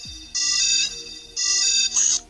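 Chiptune-style indie mobile game sounds played from a phone's speaker held up to a microphone, with bright beeping tones in two sustained bursts, then a short warbling jingle.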